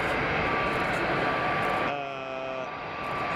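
A jet airliner roars at Frankfurt Airport, a broad, loud engine rush that thins out partway through with a brief whining tone. Voices talk over it.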